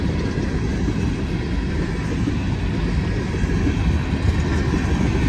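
A Norfolk Southern freight train rolls past on the rails with a continuous loud rumble and rattle of the cars, steady and close for the whole stretch, with no voices heard.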